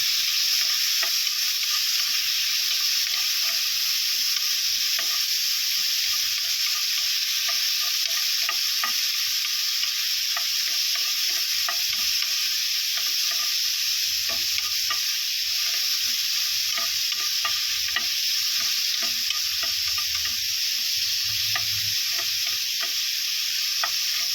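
Tomatoes sizzle loudly in a hot pan while being stirred, a steady bright frying hiss with soft scraping strokes throughout and no talking.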